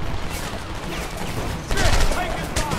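Gunfire in the first-person shooter Homefront, a dense, steady battle din of shots that swells louder and harsher partway through, with a voice talking over it.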